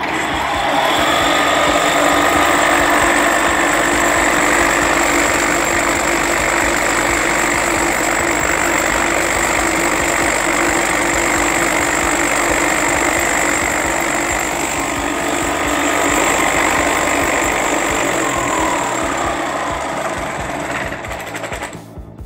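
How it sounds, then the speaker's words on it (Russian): A VS 100x53 vibrating table for making vibro-tiles from sand concrete and plaster runs loud and close, a continuous rattling mechanical hum with a steady buzz that stays even for the whole stretch and eases slightly at the end. "Так, ребята, вибрация настроена уже на нормальное изготовление виброплитки и виброизделий для литья из пескобетона и гипса"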